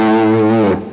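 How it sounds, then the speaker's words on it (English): A fuzz electric guitar, run through distortion and a darkening auto-wah filter, sounds one sustained, thick, buzzy note, loud and close, that holds and then fades out quickly. "So the fuzz guitar sounds like this."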